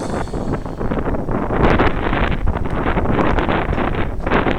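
Strong wind buffeting the microphone with a continuous roaring rush that swells and gusts throughout.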